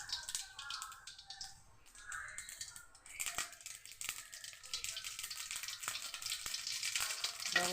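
Mustard seeds dropped into hot frying oil, a bright crackling sizzle that builds and grows louder, peppered with sharp pops as the seeds burst.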